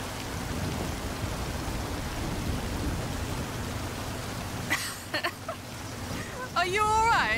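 Steady rain pours down in a constant hiss in a rainstorm in Forza Horizon 5, with brief bursts of voices breaking through near the end.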